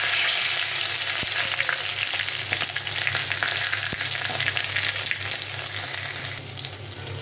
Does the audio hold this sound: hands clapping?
no